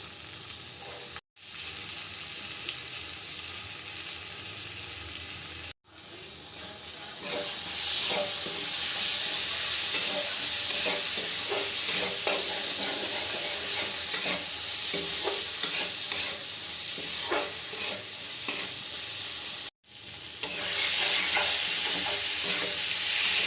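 Spices and chopped tomatoes fry for a katla fish curry, a continuous close sizzle with busy stirring scrapes, broken by three brief cuts to silence; no speech.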